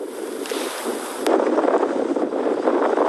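Strong wind sweeps across a frozen lake in Finland as snow begins to fall, a steady broadband roar and rush that swells louder after about a second and keeps gusting with no voices.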